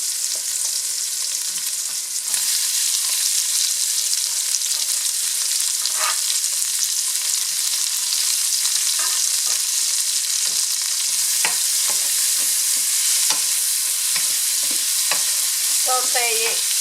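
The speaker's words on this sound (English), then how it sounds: "Saute it until the onion is nice and translucent." Onion sizzles in a hot pan with ginger and garlic, a continuous bright frying hiss with occasional stirring scrapes and clicks, close and loud with no talking.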